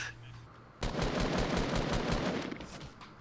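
An enemy player in Fortnite opens up with rapid automatic gunfire, a loud, steady stream of evenly spaced shots lasting nearly two seconds before easing off. No one talks.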